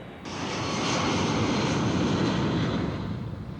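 An airplane at an airport runway, its engine roaring in a steady, loud, sustained whoosh that swells up after a brief start and holds, heard alone without voices.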